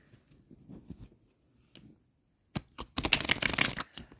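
Tarot cards are handled softly at first, then riffled and shuffled in quick snapping bursts, close and crisp, with no talk.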